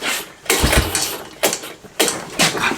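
A 1997 Honda Recon 250 ATV engine running lean at idle with a worn-out carburetor after sitting outside for years, heard close as a rough, surging idle with several uneven revving bursts.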